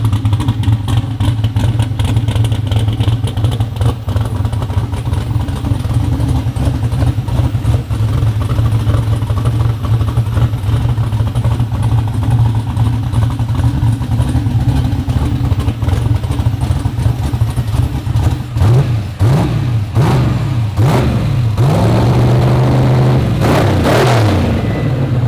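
A New Edge Ford Mustang street car idles loudly up close with a deep, choppy lumpy rumble, then gets blipped through several sharp revs near the end.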